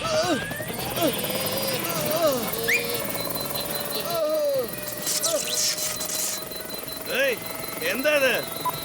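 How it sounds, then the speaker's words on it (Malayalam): A cartoon helicopter sound effect from a Motu Patlu animated adventure, a loud continuous whirring rotor drone with wavering electronic tones and swooping chirps over the whole stretch. "ഹെലികോപ്റ്റർ നിന്ന് പോയല്ലോ."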